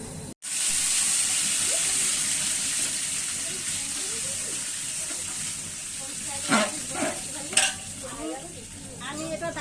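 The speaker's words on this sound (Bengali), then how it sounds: "এখন পেঁয়াজটা লাল লাল করে ভাজা হয়ে গেছে এবারে আমি পেঁয়াজ জল দেবো" Water poured onto reddish-browned fried onions in a hot pan for biryani, a loud hissing burst that fades into a softer sizzle, with a few utensil clinks and scrapes toward the end.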